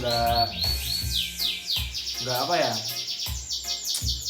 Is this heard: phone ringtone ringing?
no